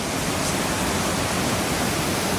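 Waterfall rushing in a steady, broadband roar that stays loud and constant, with no voices.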